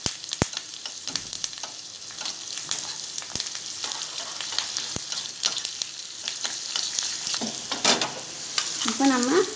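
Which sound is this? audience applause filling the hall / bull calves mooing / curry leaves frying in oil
curry leaves frying in oil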